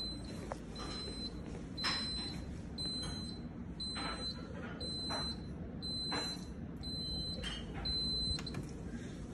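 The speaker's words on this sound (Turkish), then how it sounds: "Duman dedektöründen alarm verdiriyoruz." A smoke detector set off on a fire alarm test panel, sounding repeated high electronic beeps in a regular pulsing pattern over a steady background hum.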